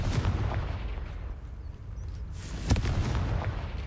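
The Confringo explosive spell in Hogwarts Legacy goes off as a heavy, rumbling blast with a sharp burst near the end, loud over a dense, noisy backdrop.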